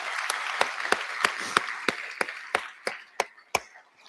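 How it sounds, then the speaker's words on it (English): Sparse, evenly spaced claps from a small audience at a Forty Under 40 awards livestream, about a dozen distinct sharp hand claps in a loose rhythm over a faint background rather than a full ovation. "would like you all to give my lovely wife a round of applause"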